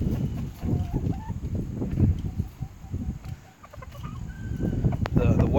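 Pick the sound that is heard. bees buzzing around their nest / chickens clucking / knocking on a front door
chickens clucking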